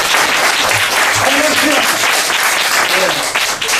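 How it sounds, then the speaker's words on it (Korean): A church congregation claps loudly and steadily throughout at a revival meeting, dense applause filling the room with no pause. "뒤에 박수 치는 게 괜찮아요."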